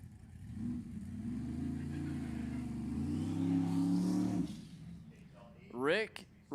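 Drag racing car making a solo bye run at Sacramento Raceway, a steady engine drone that rises in pitch as it accelerates away, followed by a brief pause and a second rising whine near the end, heard at a distance.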